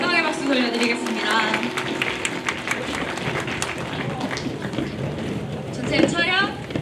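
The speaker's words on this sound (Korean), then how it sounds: "하나님께 영광의 박수 돌려드리겠습니다" An audience at a student chapel service applauds steadily for several seconds, filling the room with continuous clapping while a voice speaks over it at the start and again near the end.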